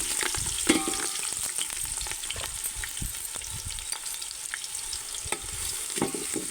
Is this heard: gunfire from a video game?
no